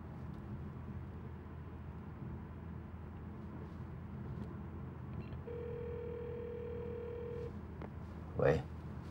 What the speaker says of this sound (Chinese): 拿我电话给文娜打个电话。